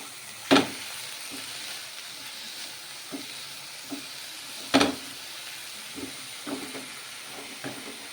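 Green chillies frying in an oil pan while a spinach and egg fry is cooked: a low steady sizzle with occasional sharp spits and pops, fairly quiet, no talking.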